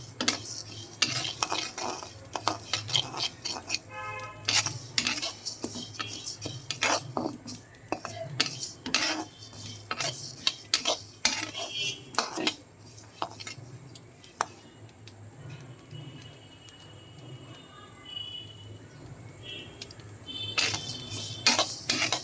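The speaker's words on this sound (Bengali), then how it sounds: "ডালটাকে হালকা ভেজে নিচ্ছি।" Mung dal being dry-roasted in a wok, stirred with a utensil that scrapes and clinks against the metal in irregular bursts, close but fairly quiet, with faint dry crackling between strokes and no voices.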